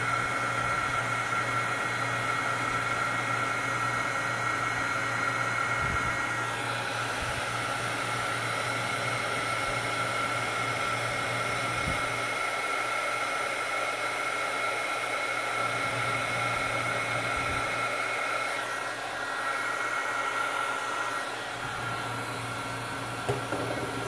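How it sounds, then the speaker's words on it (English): Heat gun embossing powder on a handmade birthday card, a steady loud blowing whir with a constant hum that runs for about twenty-four seconds with only slight shifts in tone. "Now I'm going to take the heating gun and emboss it."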